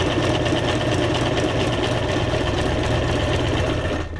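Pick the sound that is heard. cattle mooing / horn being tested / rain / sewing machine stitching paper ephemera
sewing machine stitching paper ephemera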